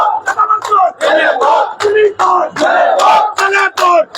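A crowd of marchers chants rhythmic slogans in unison at a torch-lit protest march in Sylhet, loud and close, with repeated shouted phrases separated by brief pauses.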